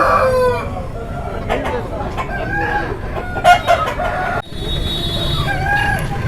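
Native country chickens at a Sunday fowl market in Ongole cluck and crow close by, with a rooster's crow rising among busy, overlapping clucks and people talking in the background.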